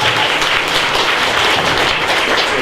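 A room full of people applauds a junior hackathon team at a show-and-tell, steady dense clapping for a couple of seconds with no talking.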